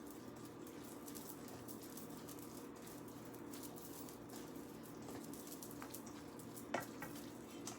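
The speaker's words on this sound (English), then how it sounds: "I'm going to give this a stir first" Black bean filling stirred in a hot pan, a faint, even sizzle with occasional light scrapes, heard from a distance in a quiet kitchen.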